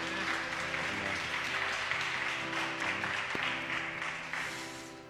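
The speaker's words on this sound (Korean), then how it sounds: "하나님께 영광의 박수를 좀 올려드릴까요?" A church congregation gathered for a joint Korean-church worship service applauds together, a dense steady clapping that fills the room and fades slightly toward the end.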